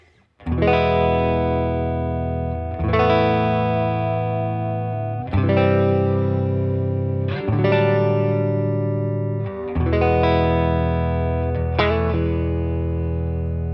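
Clean Tele-style electric guitar chords strummed and left ringing, about six separate sustained strums, dry and fairly flat with no added drive or room tone.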